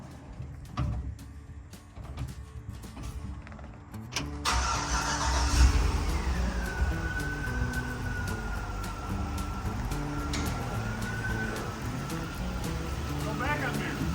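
A 1957 Chevy truck body on a 2004 4x4 Yukon frame cranks and fires up, then idles and pulls away with a steady, close engine rumble and a rising-falling whine, while people talk over it.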